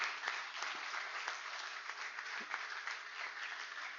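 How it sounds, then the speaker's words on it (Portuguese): A church congregation bursts into sustained applause, dense and even clapping from many hands that fills the room for several seconds at moderate volume, with a faint voice underneath. "Dá uma salva de palmas para Jesus pela vida deles agora"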